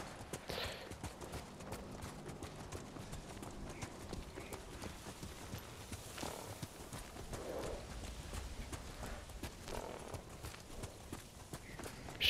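Horse hooves clip-clop steadily at a walking pace in the Ghost of Tsushima video game, moderately close and continuous over soft ambient background.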